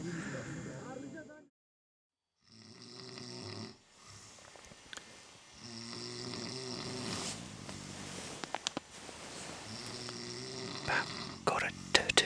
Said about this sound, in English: snoring is keeping us awake